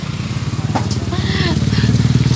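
A motorcycle engine drones and putters nearby, loud and steady with a pulsing rhythm that swells slightly as it passes, with brief talk over it.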